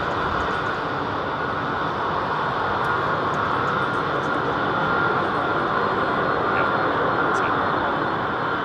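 Boeing 737 departing London Heathrow in a crosswind, a constant loud broadband jet roar with heavy low rumble sustained across the whole stretch, and no clear talk over it.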